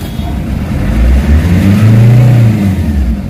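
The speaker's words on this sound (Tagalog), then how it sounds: "Pakinggan nyo mabuti yung RPM" A Nissan Navara pickup truck engine with low power and fuel knocking revs up, rising to a loud, sustained roar around 3,400 RPM and holding there, close by with no talking.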